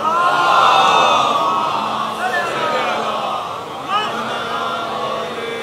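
A very large religious congregation at a Muharram majlis loudly recites salawat in unison, a dense roaring crowd chant that swells at the start and holds at a steady, sustained level throughout.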